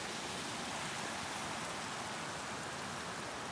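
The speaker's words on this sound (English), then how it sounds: "Oh, this is cool, a little waterfall." A small waterfall on a Colorado hiking trail gives a steady, even rushing hiss of falling water, continuous and unbroken, fairly faint and heard alone.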